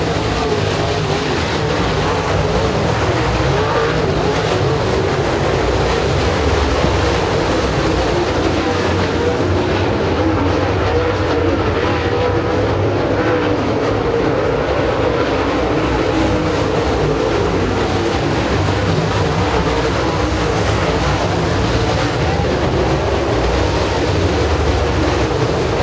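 Super late model race cars thunder around the dirt oval at Eriez Speedway during a night feature, a steady dense engine roar filling the track with no letup for the whole stretch.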